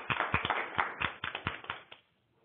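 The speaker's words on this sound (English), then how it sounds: "Round of applause for our trainer." A small room audience applauds a trainer at a wastewater training session, with a brief, faint burst of scattered clapping that fades out after about two seconds.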